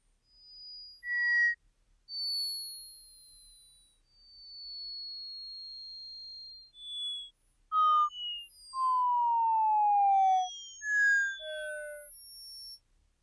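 Sparse, pure synthesizer tones glide slowly downward in separate phrases, some held long, others brief, with silence between them.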